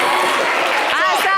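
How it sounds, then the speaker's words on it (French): An audience applauds a guest on a French-language television show, giving a dense, continuous clatter of clapping, with voices rising over it toward the end. "Applaudissez pour monsieur Achia."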